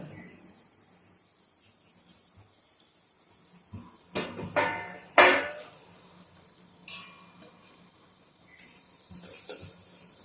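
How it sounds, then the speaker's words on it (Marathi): Peanut curry premix hits hot cumin tempering in a pan, giving a few short bursts of sizzle and frying hiss with stirring clatter, then a softer sustained hiss. "आता इकडे तुम्ही बघितलं तर जिऱ्याची फोडणी तयार झालेली आहे त्याच्यामध्ये हे प्रिमिक्स मिसळा"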